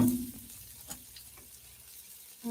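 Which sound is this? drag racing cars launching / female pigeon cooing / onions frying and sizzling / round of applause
onions frying and sizzling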